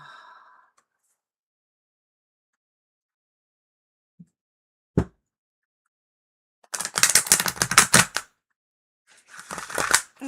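A deck of tarot cards being shuffled, with dense bursts of riffling card clatter, one long run and then a second shorter one after a few sharp taps and a pause.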